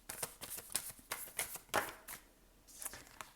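Tarot cards riffled and shuffled by hand, a run of quick crisp flutters and slaps close up, with a short pause before a final card snap.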